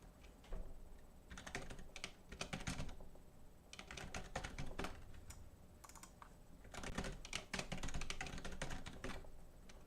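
Rapid bursts of typing on a computer keyboard, clustered in uneven runs with brief pauses between, close and fairly quiet, with no voices.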